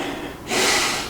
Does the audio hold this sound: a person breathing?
yes